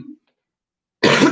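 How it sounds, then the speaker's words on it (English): A single harsh cough close to the microphone, a brief burst after a short silence, preceded by a faint murmur. "Excuse me with the coughing."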